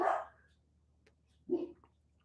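Dogs bark twice at a distance, two short separate woofs about a second and a half apart, faint against a quiet background.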